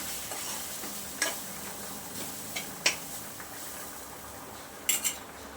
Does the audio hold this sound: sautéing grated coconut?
yes